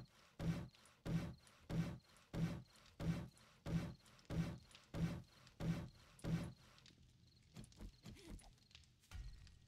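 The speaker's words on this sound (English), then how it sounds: "Let's take our hammer and just start upgrading all this." Hammer upgrading wooden blocks in the survival game 7 Days to Die: about ten loud, evenly spaced thudding knocks, then quieter, irregular scraping and rustling toward the end.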